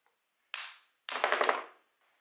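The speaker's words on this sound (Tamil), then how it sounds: "இப்போ இந்த ஷாஃப்ட்டுக்கு மேலே கொஞ்சமாக வேஸ்ட் துணியை வச்சுட்டு லைட்டாக தட்டினோம் அப்படின்னாலே வெளில வந்துடும்" An air compressor shaft is tapped out through a waste cloth during a restoration: two short metallic bursts, the second longer with several rapid knocks, close and fairly loud.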